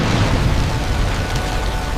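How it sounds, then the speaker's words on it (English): Ground artillery explosions as a sound effect: a heavy, continuous rumbling roar of blasts that blend into one loud, dense wall of booming noise with no pauses. "the New Earth Defense Force fires ground artillery to stop them."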